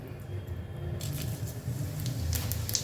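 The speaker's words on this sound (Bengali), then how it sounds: "তেল গরম হয়ে গেছে দিয়ে দিলাম শুকনো লঙ্কা আর দিচ্ছি গোটা চিড়ে" Dried red chillies and whole spices hit hot oil in a pan for a shrimp and pointed gourd curry, a steady close sizzle with sharper crackles and pops as the frying continues.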